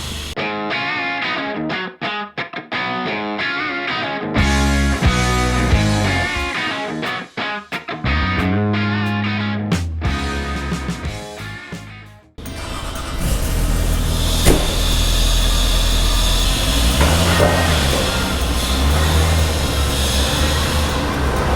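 A Kawasaki Ridge side-by-side UTV with four-wheel drive heads out on a farm field trip, its engine and driving noise a loud, steady broadband roar that follows a stretch of music.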